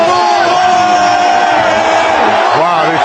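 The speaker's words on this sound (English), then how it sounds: "Wow, they're cheering. They're cheering." Loud, continuous crowd cheering and yelling fills a Phillies baseball game, a dense roar of many voices with whoops rising throughout.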